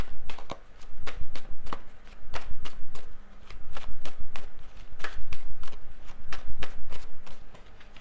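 Tarot cards are shuffled and drawn, a quick run of crisp, close riffles and slaps that keeps going in irregular bursts for several seconds.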